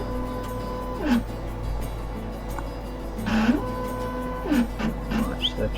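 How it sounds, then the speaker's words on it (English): Vinyl cutter slicing a pink Polyflex airbrush stencil, giving soft, intermittent whirring and scraping passes with small clicks over a faint steady hum, close and fairly quiet. "we're going to send it through to this cutter now"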